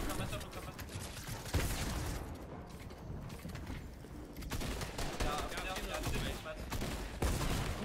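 Rapid gunfire and bursts of automatic weapons in a competitive online shooter match, dense and continuous under excited talk from players throughout.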